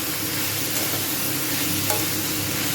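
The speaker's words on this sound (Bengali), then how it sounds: "এবার উচ্ছে আর আলু একসাথে আমি ভেজে নেবো" Bitter gourd and potato pieces fry together in oil in a pan with a loud, dense, continuous sizzle that stays steady throughout, close and with no talk.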